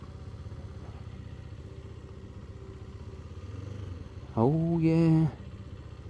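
A QJMOTOR SRK450 RR motorcycle ridden in sport mode hums with a steady engine drone, then rises into a brief louder rev near the end; a short spoken remark is heard over it.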